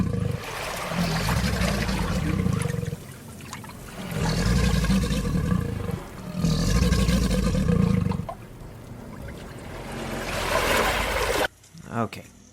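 Alligators growl in repeated deep, rumbling bursts a few seconds long, loud and close, over a wash of water-like noise, ending in a brief scuffle of sound.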